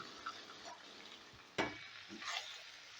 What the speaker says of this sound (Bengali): এবারে এই মটরশুঁটিটাও ভালো করে কষিয়ে নেবো এই মশলার সাথে